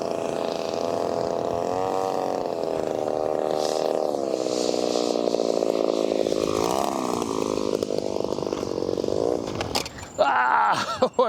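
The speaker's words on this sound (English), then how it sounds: "I'm gonna land. The engine is kind of burbling." The P-51 Passion Wagon RC plane comes in to land in windy conditions, its engine a loud, burbling, buzzing drone that dips and wavers in pitch, then stutters and breaks up near the end with clatter.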